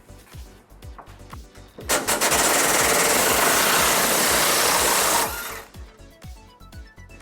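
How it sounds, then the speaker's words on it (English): A power tool with an 18mm socket removes a frame bolt on a 2002 Ford Ranger. It makes a loud, steady whirring rattle for about three seconds, framed by clicks and tapping handling sounds before and after. "we're going to remove this bolt towards the rear of our frame using an 18mm socket."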